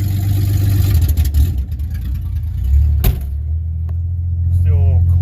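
An idling vehicle engine rumbles low and close, swelling briefly as it is revved on icy ground, with a voice speaking over it.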